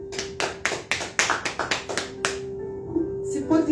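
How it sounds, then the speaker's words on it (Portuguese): A church congregation claps along in a quick, rhythmic burst of about ten sharp hand claps during a worship service, then the clapping stops and soft voices and tones linger. "Aplauda o Senhor."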